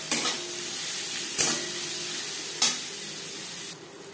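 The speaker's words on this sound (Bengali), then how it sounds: "ডিম ভেজে নেওয়া তেলে দিয়ে দেবো পেঁয়াজ কুচি।" Two large chopped onions sizzle in oil already used for frying eggs, a loud, steady hiss broken by three sharp stirring scrapes of a spatula against the pan before the sizzle drops off at the end.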